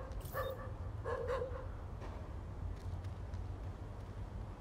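A dog barks twice in quick succession in Tom Clancy's The Division game, sharp and mid-distance over a low ambient rumble, then the scene fades to quiet background noise.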